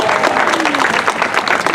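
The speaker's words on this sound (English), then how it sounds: "Let's put those hands together." An audience at a seal show claps and cheers in a brief, continuous burst of applause, close and fairly loud, with a voice speaking over the crowd noise.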